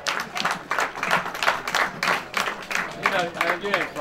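An event crowd applauds a man named Scotty Carroll, an owner of a 90 mph, 38-foot Top Gun boat, with lively uneven clapping, while a voice speaks over the applause.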